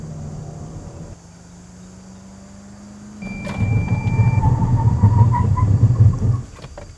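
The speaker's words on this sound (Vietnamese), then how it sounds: "chúng ta sẽ cùng xem quãng đường phanh của Elantra Sport từ 100 km/h về không là bao nhiêu" A Hyundai Elantra Sport 2018 doing a braking test from 100 km/h: a steady engine and road drone, then a louder surge of rumbling tire and road noise for several seconds that cuts off abruptly, with no talk.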